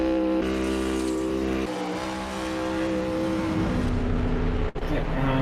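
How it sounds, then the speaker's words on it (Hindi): A car performing a burnout, tyres spinning and smoking, its engine roaring loudly and steadily with rising tones and a gritty squealing rasp throughout, briefly dipping near the end. "ये प्यारा लगता है जब टायरों में से धुआं निकल रहा है। इतना रबर जला दिया"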